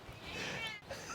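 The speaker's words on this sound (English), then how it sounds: "Stop meowing!" A cat meows in a short drawn-out call with a wavering pitch, close by in a workshop where an old oak barrel is being cut up, with steady background noise underneath.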